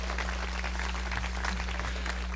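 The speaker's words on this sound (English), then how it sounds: "You're supposed to clap." Faint scattered crowd clapping at a Republican Day political rally at the state fair, distant and thin over a steady electrical hum.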